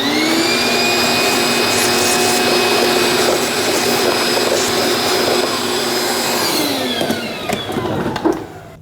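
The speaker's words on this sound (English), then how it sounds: "vacuum it out so that the new air filter doesn't get clogged with debris" A shop vacuum runs steadily, clearing leaves and debris from the engine air filter box of a 2017-2024 GMC Acadia, with a loud continuous whine and drone that shifts in pitch near the end as the nozzle moves.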